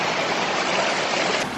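Water rushes steadily into a micro hydro intake pipe, a close, loud, unbroken churning roar with no voices.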